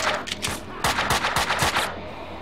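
Bursts of gunfire in the Max Payne 2 video game, a rapid string of loud sharp shots with brief gaps between volleys, cutting off abruptly near the end.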